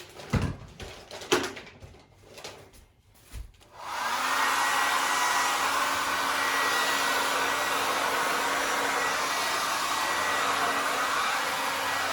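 A hair dryer switches on after a few seconds of clunks and handling noises, then runs at a steady, loud, close whoosh with a constant hum until the end.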